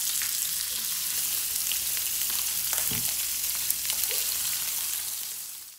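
Ginger-crusted bass fries in a pan with a loud, steady, close sizzle that runs unbroken throughout, with a few faint clinks underneath.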